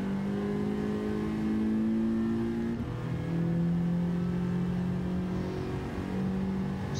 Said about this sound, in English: Accelerate up the hill.